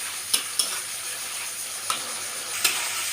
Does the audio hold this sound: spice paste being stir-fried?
yes